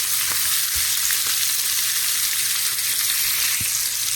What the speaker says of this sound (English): then I'm going to fry the shrimp